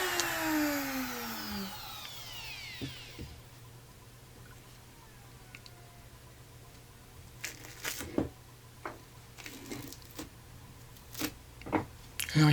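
A bench grinder-sander on a mobile cabinet with a rotating top spins down from a high whine that falls away in pitch, leaving quiet room tone with scattered knocks and clicks.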